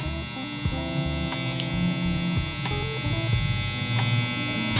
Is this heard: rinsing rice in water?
no